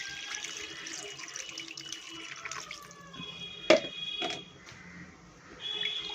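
Tap water runs into a kitchen sink while dishes are washed, a steady splashing flow broken by a sharp clunk of crockery midway and a brief surge near the end.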